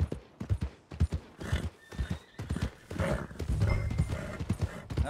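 Horse hooves clip-clopping and a horse neighing in Red Dead Redemption 2, heard as a repeated rhythmic clatter with whinnies mixed in, loud and near throughout.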